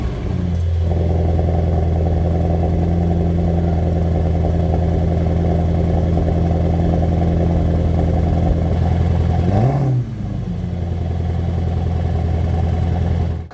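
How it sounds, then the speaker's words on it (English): The exhaust of a 2023 Mercedes-AMG SL63 holds a loud, steady, deep burble close by, then blips briefly in a quick rev before settling back to a rumbling idle. "that was the exhaust sound of the SL63"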